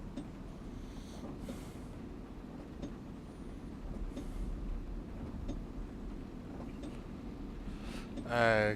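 Simulated Class 221 train running on the North Wales Coast line: a steady low rumbling drone, continuous throughout, with a few faint clicks and a louder burst near the end.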